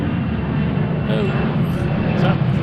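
A Boeing 767 jet climbing out from Seattle-Tacoma airport roars overhead as a loud, broad, steady rumble that fills the whole moment, with voices present alongside.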